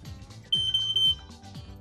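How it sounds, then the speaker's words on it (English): A smoke detector sounds its test alarm during a fire inspection, a sharp, piercing high-pitched beep held for about half a second, repeated three times in quick succession against quiet room tone. "Let's go ahead and test your smoke detector."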